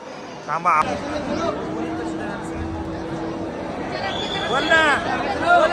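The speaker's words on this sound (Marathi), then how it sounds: "कशी गर्दी बाई" Dense crowd of pilgrims at the Mahakal temple in Ujjain, a steady murmur of many voices with a few louder calls rising out of the babble, close and continuous throughout.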